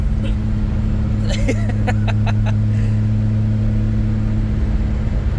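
Turbocharged Lexus IS300 pulling hard through the gears from inside the cabin, a steady loud engine drone with a brief shift break, accompanied by intermittent ticking and clicking sounds.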